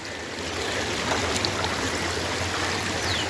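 Water in a farm stream rushing steadily past, a dense even wash with faint splashing that holds constant throughout, no voices.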